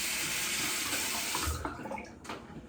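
Water runs in a steady, dense broadband stream for about a second and a half, then thins into scattered splashes and trickles as the flow stops.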